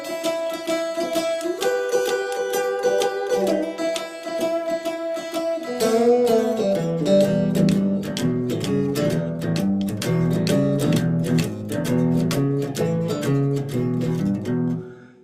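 An electric guitar plays a shuffle, opening with ringing chords before settling into a bouncing, swung rhythm of muted bass notes and chord stabs, loud and alone.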